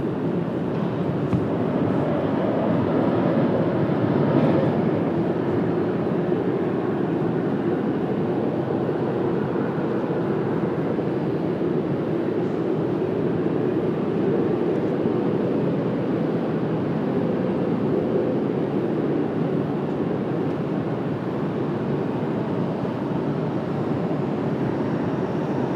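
A jet airliner rumbles on approach and landing at Washington Dulles on a cloudy day, a steady broad roar heard at a distance that holds throughout without voices.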